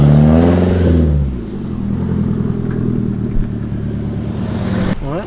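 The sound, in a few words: car driving past with loud exhaust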